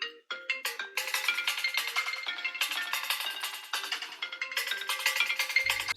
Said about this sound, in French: dites-moi ce que vous pensez de ma nouvelle sonnerie